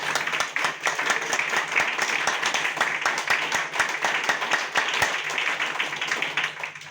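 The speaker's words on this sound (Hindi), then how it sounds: "हम चाहेंगे उस महान व्यक्ति के लिए जोरदार ताली।" An audience at a meeting claps together in a fairly dense, rhythmic burst of applause, steady and moderately close, lasting several seconds.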